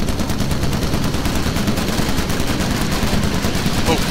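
Aircraft machine gun fire in Call of Duty: United Offensive during an aerial bombardment mission, a continuous rattling stream of rapid shots that stays loud and unbroken for the whole stretch.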